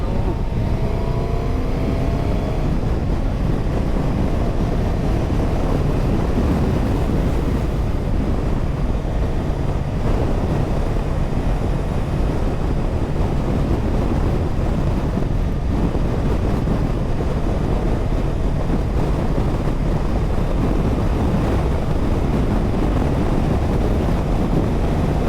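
A Suzuki GSX-S1000GX motorcycle rides at speed on the road, its engine hum buried under a steady, loud roar of wind buffeting the microphone, continuous throughout.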